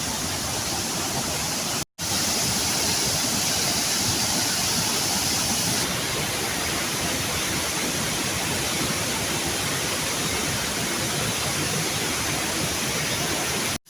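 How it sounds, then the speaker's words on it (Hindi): Dudhsagar waterfall in Goa, a dense, steady roar of rushing water heard from a distance, broadband and unbroken apart from a brief cut, with no voices. "और ये दूधसागर है, इधर फॉल है"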